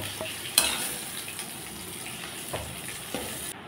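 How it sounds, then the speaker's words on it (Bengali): Chopped potatoes sizzle quietly in hot oil, with a few soft clinks from a stirring utensil. "আলু কুচিটা ভেজে নিলাম, এখন তুলে দিচ্ছি"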